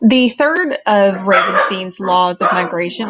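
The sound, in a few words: dogs barking in the background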